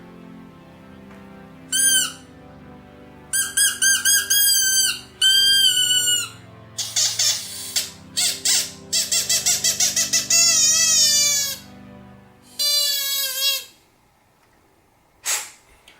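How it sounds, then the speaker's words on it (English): A small toy squeaker from a magician's kit squeaks in a string of quick, loud, high-pitched bursts, some short and some drawn out, separated by silent pauses. "So basically, you just make a bunch of squeaking noises."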